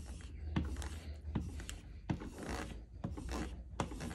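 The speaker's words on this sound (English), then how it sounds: "try to keep the blade flat against the leather with the stropping compound as you're gently dragging it across" Whittling knife blade dragged flat across a leather strop dressed with compound: soft, repeated rubbing strokes with a brief scrape at the start of each pass, close and quiet, evenly spaced.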